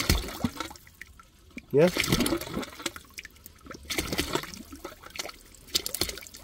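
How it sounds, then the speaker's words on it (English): Air being forced through a blocked heating cold feed pipe pushes very hot water out in gurgling, splashing bursts, with a loud surge midway and trickling water around it, while a person speaks briefly. "That's all the air pushing that water out."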